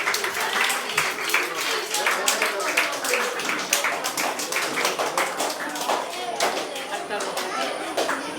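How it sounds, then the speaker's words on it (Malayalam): Sustained applause from an audience at a residents' association award ceremony for SSLC and Plus Two students: dense, steady clapping lasting the whole stretch, loud and close. "നല്ലൊരു കൈയടി കൊടുക്കൂ"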